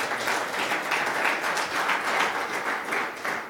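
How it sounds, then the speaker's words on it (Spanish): Congregation in a church service clapping in praise to the Lord, a full, steady roar of many hands with a faint rhythmic pulse, fairly close and sustained, with no talk over it. "Démosle un fuerte aplauso al Señor"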